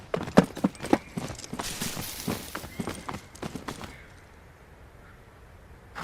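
Horse hooves clip-clop in the video game Tales of Rein Ravine, a quick run of close, uneven strikes that thins out and fades to near quiet toward the end.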